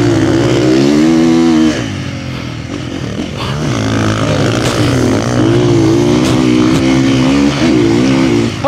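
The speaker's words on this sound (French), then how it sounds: "Waouh, il met du gaz hein." A motorcycle engine revs hard close by, its pitch rising and falling through repeated throttle blips, loud and continuous with a throaty exhaust tone.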